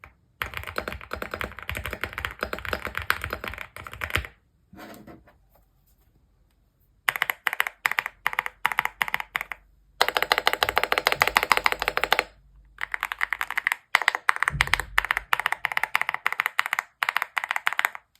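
Keys clack in quick bursts of typing on a keyboard fitted with KeyTok glowing keycaps, close and crisp, with several short pauses between runs of rapid strokes.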